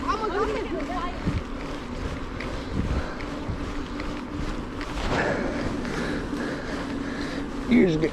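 Wind rushes steadily over a cyclist's cheap styrofoam helmet on a bike trail beside a lake, a broad continuous roar with gusty swells, heard up close without talk.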